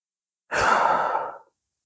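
A single deep breath during a yoga stretch in Anjaneyasana, heard as one close, airy exhale about a second long, with silence before and after.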